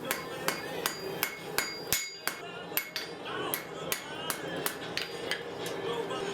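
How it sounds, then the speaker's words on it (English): Forge-welded steel being drawn out on an anvil for a blacksmith-made herb hanger, with sharp ringing hammer blows landing in a quick, steady rhythm, close and loud. "Stick the forge weld, get over to the anvil, draw it out a little bit,"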